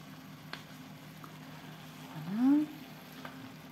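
Salad greens wilt and cook down in a hot pan with a low, steady sizzling hiss, a brief hum-like vocal sound rising over it partway through.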